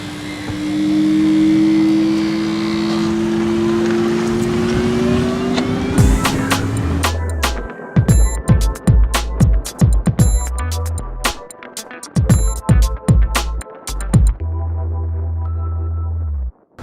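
A 2013 Smart Fortwo Electric Drive car drives along, its smooth rising electric whine and road rush building, then giving way to a series of sharp knocks and thumps in the second half, loud and close.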